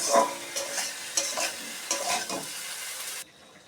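Soaked, washed and mashed soybeans are tipped into a hot frying pan and stirred, loud sizzling bursts and spatula scrapes pulsing in quick rhythm before cutting off abruptly.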